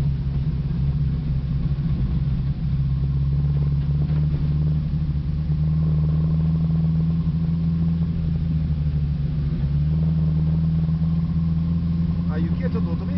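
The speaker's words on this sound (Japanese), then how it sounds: "まあ一速でエンジンブレーキでゆっくり降りていきましょう。" A Renault 5 Turbo engine brakes in first gear down a snowy road, a steady low drone heard from inside the car with a voice talking over it throughout.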